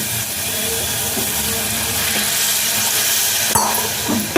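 Poppy seed curry masala sizzles in a pan as water is added, a loud, steady hiss of frying and steam with a sharp clatter near the end.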